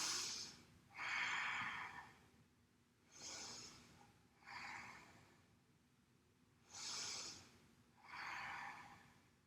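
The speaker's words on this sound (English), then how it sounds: "Let's take 3 rounds of breath." Slow, deep yoga breaths taken while seated on the heels, six soft airy inhales and exhales spaced a second or two apart, close and fairly quiet against a still room.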